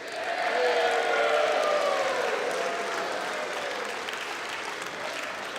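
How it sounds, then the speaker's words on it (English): Applause with scattered cheers fills the chamber of the House of Representatives during floor proceedings, a steady dense wash of clapping that stays loud for several seconds before easing slightly. "invariably that announcement brings cheers."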